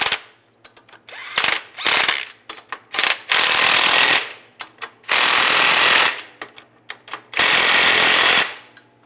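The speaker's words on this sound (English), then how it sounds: "Now we'll tighten up the clamp. Use a 14mm socket." A ratchet with a 14mm socket tightens a clamp on the transmission oil dipstick tube of a 2007-2013 Chevrolet Silverado, heard as loud, close bursts of rapid mechanical rattling, some short and some lasting a couple of seconds, with brief pauses between.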